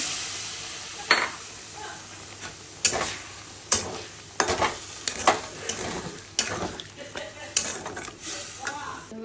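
Soyabean masala with cashew, raisin and poppy seed paste being sautéed in a pan: repeated spatula scrapes and clinks against the metal over a continuous sizzle, strokes coming in irregular bursts.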